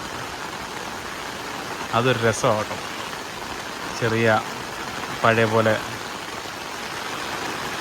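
Steady rain falls as a dense, even hiss throughout, with a voice speaking in short bursts over it.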